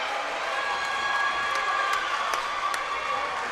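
A crowd at a Class 4A state tournament high school basketball game in Morrilton cheers for Little Rock Hall's Warriors after a win, a steady, fairly distant roar with scattered claps and whistles.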